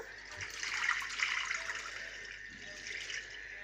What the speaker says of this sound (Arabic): هنحط مية سخنة برضو عليها